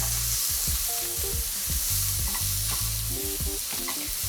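Apples cooking in a hot pan, sizzling steadily while a utensil scrapes and stirs in repeated strokes; close, continuous frying hiss with rhythmic stirring knocks, no talking.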